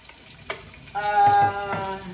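Onions fry in a pan, a close crackling sizzle that swells after a spatula knock and holds steady, with a steady tonal hum running beneath it.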